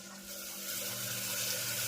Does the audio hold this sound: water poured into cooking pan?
yes